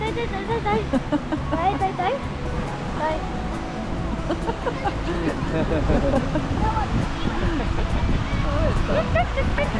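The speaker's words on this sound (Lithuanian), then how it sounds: "Kokios fainos bangos." Sea waves break on a Polish beach, a steady surf wash and rumble with wind buffeting the microphone, while people chat nearby over the noise.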